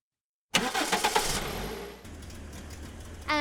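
A car engine turns over after a moment of silence, cranking in rapid pulses, then catches and settles into a steady idle, with a brief whirring rise near the end.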